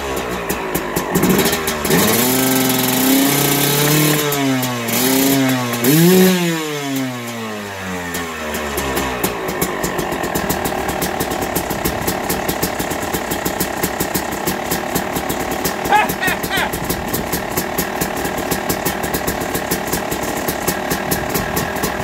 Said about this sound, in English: Let's try how long it can idle.